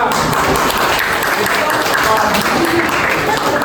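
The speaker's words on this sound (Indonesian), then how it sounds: "Beri aplaus kepada yang kedua." Students in a high school economics classroom clap together in a dense, steady round of applause that holds at an even level, with some voices mixed in.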